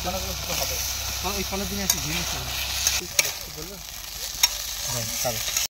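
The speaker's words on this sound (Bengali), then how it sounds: "আলুটা মশলার সঙ্গে ভেজে নেবো।" Potatoes fry with spices in a pan, a continuous close sizzle with occasional stirring clicks and scrapes, while someone talks over it throughout.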